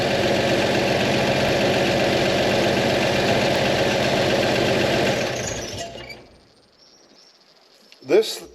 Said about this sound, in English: Idling, the carburetor's working.